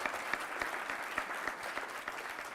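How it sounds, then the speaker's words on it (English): Audience applause at a book launch event, steady even clapping from a seated crowd, fairly soft and continuous throughout. "A huge round of applause for both of them."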